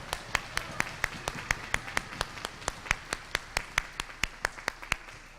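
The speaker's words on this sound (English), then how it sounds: "give them a round of applause" Rhythmic clapping for the trombone players at a school band concert: about twenty sharp, evenly spaced claps in steady unison over a faint background murmur.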